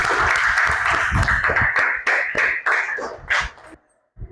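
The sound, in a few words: applause for group 1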